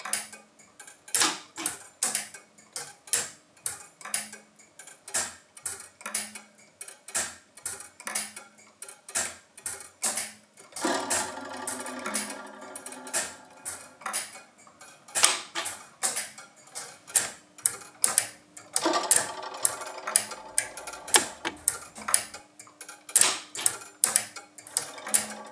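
A mechanical bell programmer ticking inside a museum, kept in sync with a pendulum: sharp regular clicks and clacks at a steady rhythm, with denser rattling mechanism bursts partway through, no talking.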